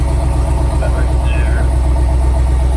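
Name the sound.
GMT800 Sierra 1500HD 6.0L exhaust dumped before stock muffler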